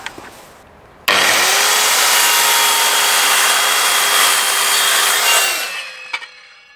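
A loud Evolution R185CCSL circular saw whirs up suddenly and cuts steadily through wood for about four seconds, then spins down, followed by a couple of small knocks.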